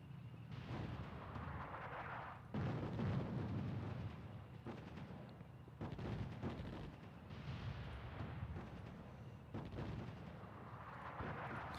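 Repeated artillery fire in the video game Attack At Dawn: North Africa, a World War II battle scene, with loud booming salvos recurring every couple of seconds over a steady rumbling din.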